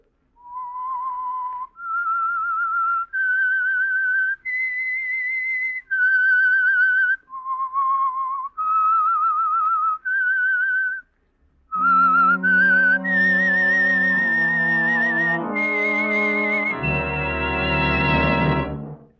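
Signature whistled theme of the Signal Oil radio drama The Whistler: a lone human whistle tracing a slow, eerie melody of sustained notes, then the same tune taken up by an orchestra with rich held chords swelling at the end.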